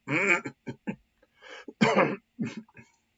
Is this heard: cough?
yes